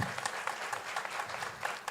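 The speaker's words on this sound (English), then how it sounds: "Please welcome with a big applause the members of the jury." Brief burst of steady audience applause at a Falling Walls Lab event in Ecuador, welcoming the jury members, with dense clapping heard throughout at moderate distance.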